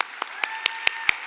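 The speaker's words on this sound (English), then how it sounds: "And these individuals truly deserve a huge round of applause." Six slow, evenly spaced hand claps ring out against a faint tonal background at a mayor's Asian American and Pacific Islander Heritage Month celebration, each clap sharp and close.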